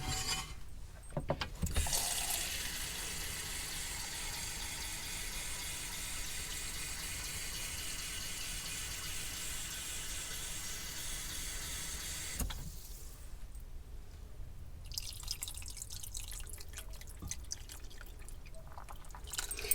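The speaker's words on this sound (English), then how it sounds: "I'm now going to fill this up with water" Water runs steadily from a tap into a pot for curry, a hissing rush that stops abruptly, followed by quieter clinks and splashes.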